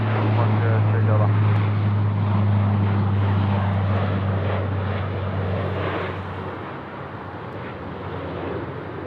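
A Dash 8 turboprop overflying Sydney Airport, a loud steady engine drone with a strong low hum that fades slightly toward the end, with radio talk heard over it.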